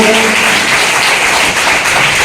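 A school audience gives a short burst of loud, dense applause to welcome guests, continuous clapping close by with no pauses.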